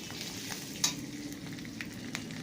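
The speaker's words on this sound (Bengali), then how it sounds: "পেঁয়াজটা দিয়ে দিলাম।" Onion frying with ginger and garlic in a pan gives a steady, close sizzle with fine crackling throughout, plus a sharper spatter burst near the start and a few smaller pops later, with no voices.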